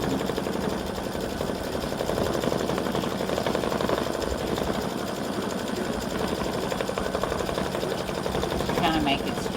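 An embroidery machine stitches a ghost design on a mug rug with a fast, even mechanical chatter running steadily throughout, fairly faint, with a voice talking over it.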